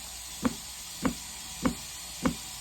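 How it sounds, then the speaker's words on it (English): A Uni-dose chlorinator pump knocks four times at a steady, slow interval like a heartbeat, each thump dull and low, close by over a faint hum. "Listen to the knocking noise."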